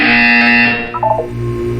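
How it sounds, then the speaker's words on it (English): A loud electronic buzzer sounds in Portal 2, one harsh sustained tone lasting under a second, then a brief warbling chime before a quiet hum. "When you hear the buzzer, look up at the ceiling"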